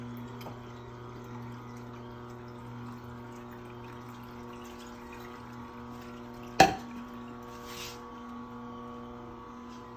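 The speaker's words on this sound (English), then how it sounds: "I'm going to leave the Nama running for a little bit" Nama juicer running steadily while making fresh almond pecan milk, a constant low motor drone with tonal hum, interrupted once by a single sharp clunk, no voices.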